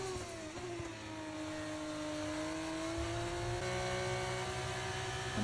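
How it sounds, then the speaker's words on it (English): An F1 car in the F1 24 racing game spins its wheels on corner exit, the engine note rising and wavering in a loud, continuous high-revving whine with no talk over it. "Lots of wheel spin on the exit."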